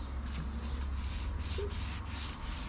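A green Scotch-Brite pad rubs lightly over a crankshaft, giving a steady, close scratchy scouring in quick back-and-forth strokes, alone with no talk.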